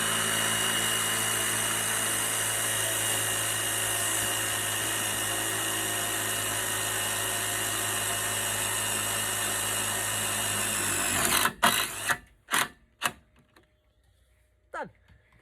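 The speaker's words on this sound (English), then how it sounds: "you grab your impact driver" An impact driver sinks a self-drilling screw into steel on a garden room roof build, a loud continuous high-pitched whirring drive for about eleven seconds, then a few sharp hammering bursts before it stops.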